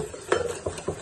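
A utensil stirring a salt-and-pepper seasoned mixture in a pan on the stove, three quick scraping strokes close by over a faint background hum.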